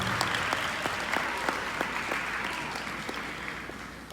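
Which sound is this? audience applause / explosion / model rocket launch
audience applause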